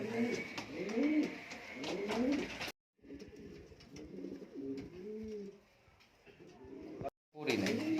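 Fancy pigeons in a loft coo in repeated low, throaty rolling calls, loud and close, with wing flutters and rustling among the birds.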